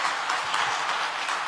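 A church congregation at a worship service claps together in a steady, dense wash of applause, fairly close and sustained for a short moment with no speech over it.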